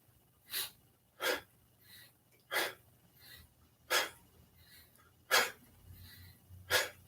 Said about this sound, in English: now we're breathing into the back and exhaling into the front